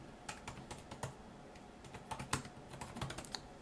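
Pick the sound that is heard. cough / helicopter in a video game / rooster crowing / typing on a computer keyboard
typing on a computer keyboard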